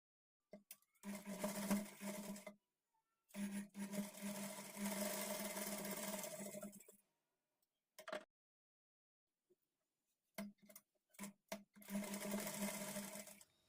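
A sewing machine stitches a kurti shoulder seam at a half-inch margin in several loud, steady runs, each a few seconds long, separated by short pauses and a couple of brief bursts, with no talking.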